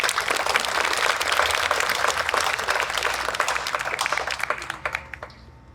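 Audience applause at the Miss Whitehall 2023 coronation pageant welcomes a contestant, a dense steady crowd clapping that carries loudly for about five seconds, then thins and fades out at the end.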